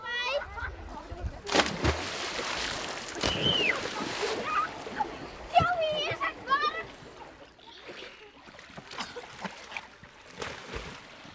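Children splash and jump into a swimming pool, with irregular watery splatters and slosh amid lively kids' voices and shouts echoing in an indoor bath.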